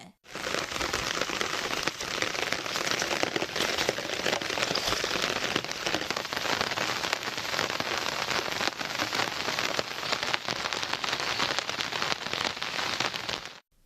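Heavy monsoon rain pours over samba rice paddy fields in the Cauvery delta near Nagapattinam, a dense, loud, continuous hiss of drops with no pause and no voices.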